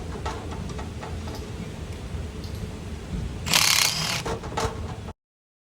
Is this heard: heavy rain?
no